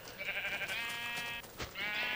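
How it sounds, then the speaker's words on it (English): Sheep in the Minecraft video game let out a loud, close bleat that wavers for over a second, then bleats again after a short pause. "I guess I'll just kill these sheep for a bed."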